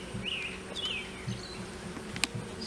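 Honey bees hum around a small hive box, a steady low drone close by with a few insects zipping past and faint bird chirps in the background.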